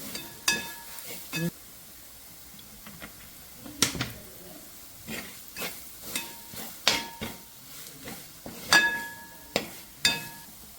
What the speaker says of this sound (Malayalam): 2 ടീസ്പൂൺ മുളക് പൊടി. ഇത് നല്ലോണം മൂത്ത് വരട്ടെ.